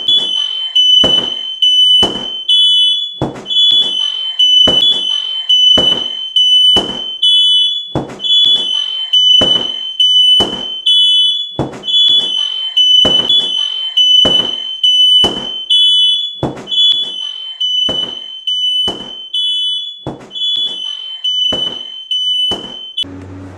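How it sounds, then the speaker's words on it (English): A home smoke detector alarm sounds off in sharp, piercing beeps repeated at a steady, rapid rhythm, loud and close, running continuously for over twenty seconds with no other sound. "Make sure you have a working smoke detector."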